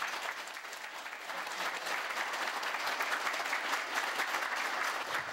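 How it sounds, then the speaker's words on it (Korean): Sustained audience applause in a TV broadcast studio, a dense, steady clapping that swells slightly after the first second and holds evenly to the end, with no talking over it. "격려도 해주시고 뜨거운 박수도 쳐주세요"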